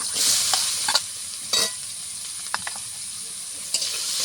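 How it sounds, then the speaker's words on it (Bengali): Chopped onion sizzles steadily in rendered goat fat in a pan, with a few sharp scraping clinks of a spatula stirring it at irregular moments. "পেঁয়াজটা একটু লাড়াচাড়া করি"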